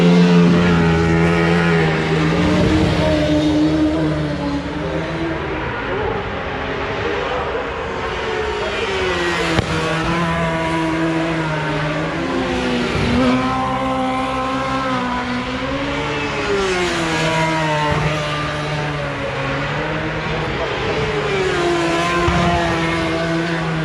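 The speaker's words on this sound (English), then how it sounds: "we're just watching the superbikes go around" Superbikes racing around a British Superbike circuit, a loud, continuous engine whine that rises and falls in pitch as the bikes pass and accelerate, heard without pause throughout.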